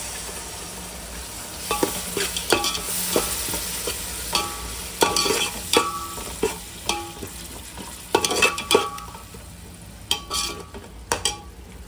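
A handful of coriander frying in a pan for an omelette biryani gravy: a soft background sizzle with repeated scraping and clinking as a utensil stirs against the pan, in irregular bursts with no talk.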